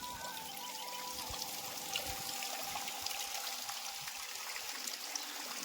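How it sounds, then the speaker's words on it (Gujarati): Irrigation water from a motor-driven pump flows and trickles steadily at a soft, moderate level into a farm plot, a continuous gentle pouring with no voices. "મોટર ચાલુ છે ડ્રીપમાં અને વાડીમાં પાણી જાય છે"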